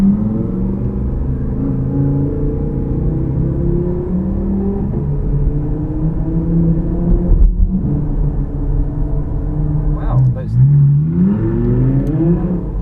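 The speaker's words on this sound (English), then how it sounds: "Nice Lamborghini." A Lamborghini sports car's engine rumbles loudly nearby with rising revs and a deep steady drone, heard from a street in Nottingham, UK.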